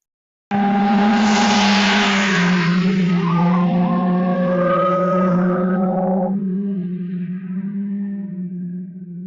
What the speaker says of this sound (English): Here's another picture of cars that sounds like cars.